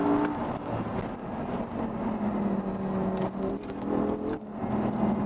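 Audi R8 V10 Spyder engine pulling toward 8000 rpm on the road, a steady moderate-volume droning engine tone with slight swells in pitch, heard alone without voices over a few seconds.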